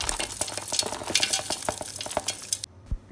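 Dry nuts for dry fruit laddu are stirred in a hot pan, a steady scraping with repeated rattling clicks as the spoon moves, then the sound abruptly stops.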